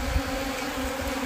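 Bees buzz steadily around a honeycomb as a woman eats it, a continuous close droning hum throughout the short stretch with no talk.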